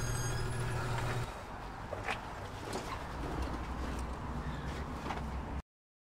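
A bus pulls up with a low engine rumble, a hiss of air brakes and repeated reversing beeps, with birds cooing and chirping nearby before the sound cuts off.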